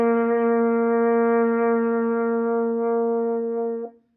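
A French horn sustains a single clear, steady F for about four seconds, sounding close and even in loudness before it stops.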